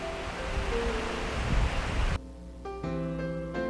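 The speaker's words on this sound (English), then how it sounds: "Enfield Creek is a small stream." Flowing water of Enfield Creek, a small stream, rushes as a steady broadband wash for about two seconds, then cuts off abruptly as music with sustained tones takes over.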